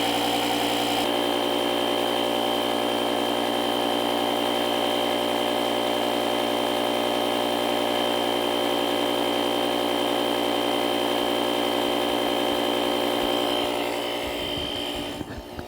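A JF Egwo 8250A jump pack air compressor runs continuously with a loud, steady buzzing drone close by, its pitch holding even for several seconds before a brief rattle and shift as it shuts off at the end.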